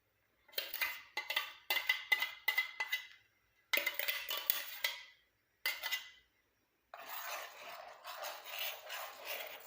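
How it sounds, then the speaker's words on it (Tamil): Hibiscus leaf and flower paste is stirred into a hot hair dye mixture in a pot, making scraping and clinking strokes in quick bursts with pauses, then a steadier softer swirling, faint and close with no talking. "இதை நல்லா மிக்ஸ் பண்ணி நல்லா கெட்டி ஆகிற வரைக்கும் நீங்கள் கலந்து விடணும்."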